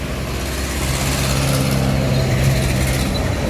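A large bus engine idles and hums nearby, a steady low drone that swells slightly partway through, with no talking.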